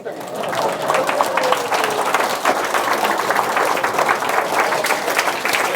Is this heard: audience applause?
yes